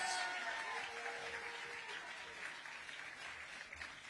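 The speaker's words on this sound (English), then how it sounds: "I know you've been doing a lot of clapping and a lot of cheering" An audience at a Democratic counter-event to the State of the Union applauds and cheers after a speaker's introduction, the fairly distant clapping dense at first and then gradually thinning out.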